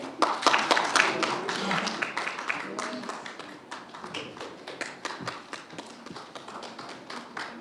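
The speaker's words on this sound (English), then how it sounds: "Can you please give applause?" A conference audience applauds steadily at a concluding session, with dense overlapping claps that fade slightly toward the end.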